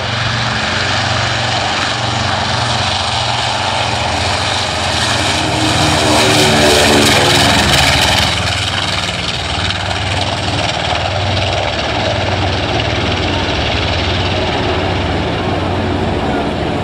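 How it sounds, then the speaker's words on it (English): Loud, droning roar of twin radial engines as a B-25J bomber takes off at a WWII-era airshow, swelling in the middle then holding steady. "Twin radial engines thundering away as the B-25 launches skyward."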